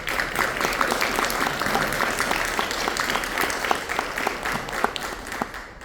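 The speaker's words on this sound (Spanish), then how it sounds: "Un aplauso para ella." An audience at a book fair talk applauds a poet, a dense, steady round of clapping from a seated crowd, moderately close and sustained throughout.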